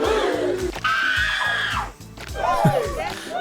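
Rider screams in the theme-park game Planet Coaster 2, several overlapping yells and whoops rising and falling over a steady rumbling background, loud and close throughout.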